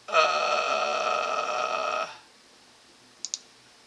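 A steady electronic buzz runs for about two seconds, then stops. After a short pause, a computer mouse gives a quick double click, crisp and close, with no one talking.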